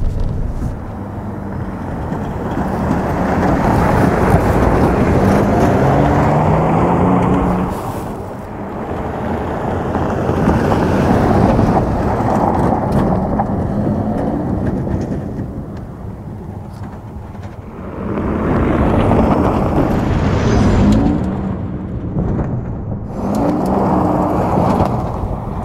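A 2022 Toyota Tundra TRD Pro pickup powering along a smooth dirt track, its engine roar mixed with wind and road rumble swelling and easing in long waves, loud and close with no talking.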